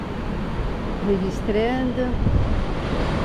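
Ocean waves wash onto a beach in a steady broadband rush, with wind buffeting the microphone while a person speaks briefly over it.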